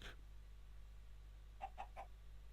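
Chickens in the Minecraft video game clucking, three short soft clucks in quick succession after a quiet stretch, faint and alone over low background hum.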